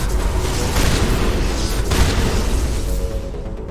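Heavy shotgun blasts from Mass Effect Legendary Edition boom loudly and close, with a couple of deep, rolling reports blending into dense combat noise and a fading tail.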